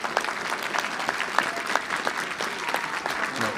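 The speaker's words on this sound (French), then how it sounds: "Et je vous demande de l'applaudir." An audience claps at a mayor's New Year ceremony in France, a brief burst of steady crowd applause with a few sharper individual claps standing out.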